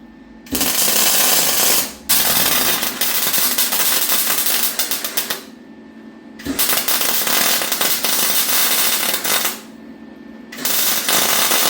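Welding on the cowl of an HQ GTS coupe gives loud, harsh crackling bursts that run for a few seconds each, separated by brief quiet pauses.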